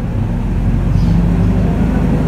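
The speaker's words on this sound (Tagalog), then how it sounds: "Guys, maingay dito kasi kahit baha. Eh, meron dumadaang mga tricycle." Steady low rumble of motor tricycles passing along a flooded street in the Philippines, a continuous engine drone close by with no talking.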